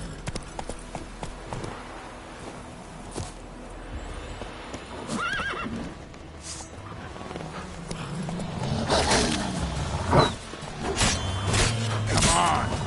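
Roach the horse gallops in The Witcher 3, hooves clip-clopping steadily with neighs and whinnies breaking through, the thudding strides growing louder toward the end; faint voices surface briefly.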